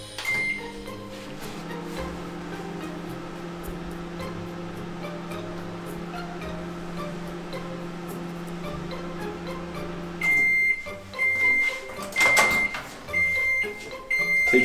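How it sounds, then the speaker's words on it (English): A microwave oven runs with a steady low hum for about ten seconds, used to heat chocolate, then stops, followed by the door clicking open and clattering handling sounds. "we are going to turn the microwave for 10 seconds and see the results."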